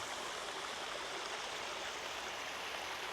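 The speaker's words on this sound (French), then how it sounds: "Il y a des petites rivières, c'est super bien aménagé." A small, landscaped stream flowing through Seoul on a hot day, a steady, unbroken rush of water that stays even and close throughout, with no voices.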